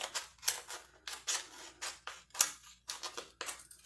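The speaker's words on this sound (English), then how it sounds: "And I'm just going to do some trimming up on this" Scissors snip and trim the moss on a homemade water bottle moss pole for houseplants, a run of about ten crisp, close snips in an uneven rhythm.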